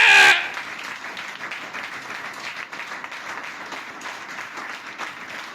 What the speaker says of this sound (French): On acclame bien.